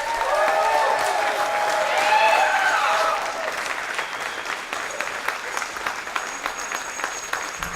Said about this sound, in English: Please give him a great big round of applause.